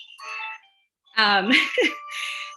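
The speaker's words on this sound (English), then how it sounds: "that's my doorbell" A short electronic chime sounds, then after a pause a person talks over another tonal ring with bright, bell-like notes.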